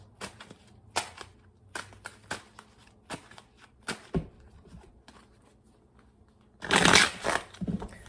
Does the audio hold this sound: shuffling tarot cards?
yes